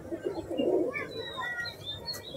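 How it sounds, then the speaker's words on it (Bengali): Dasu line pigeons coo softly, with a low throaty burble at first, then a few light chirps over quiet background noise. "এটা দাসুলাইন, হ্যাঁ দাসুলাইনের পায়রা।"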